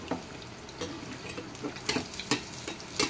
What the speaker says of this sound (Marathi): अशा प्रकारे तळून घेणार। तर हे पलटी करून घ्यायचं आहे,